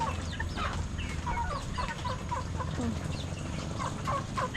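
A flock of chickens clucks continuously in a dark coop on a rainy day, many overlapping short calls at moderate volume over a steady low rumble.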